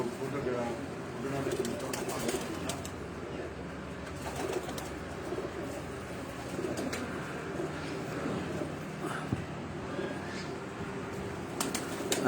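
Breeder pigeons coo softly on a rooftop at Chak Beli Road, Rawat. Their low repeated calls sit under steady background noise while someone talks nearby.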